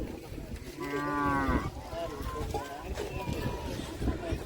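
Painted cattle at a village Pongal cattle festival give one long, close moo, while people keep talking over lively background noise from the crowd.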